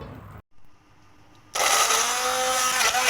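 A blender purees sliced shiitake mushrooms and onion into a mushroom sauce. After quiet kitchen noise it starts abruptly, then whirs loudly and steadily to the end.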